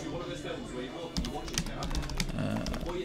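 Fingers clatter on a small, tiny computer keyboard in quick, irregular keystrokes, close and sharp, with a person talking over the typing.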